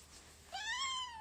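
A single cat meow, fairly close and clear, rising then gently falling in pitch over about a second after a brief quiet pause, with no talking over it.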